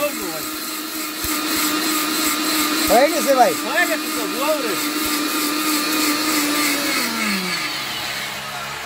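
A Miyako 2000-watt high-power commercial blender runs with a loud, steady motor whine that winds down near the end, while people talk over it throughout.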